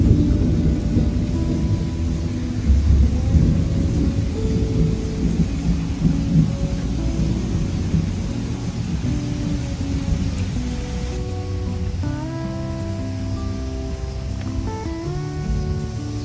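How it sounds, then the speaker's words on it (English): Heavy rain pours steadily while low thunder rumbles and rolls beneath it, a dense continuous storm with no voices. "Here comes the rain."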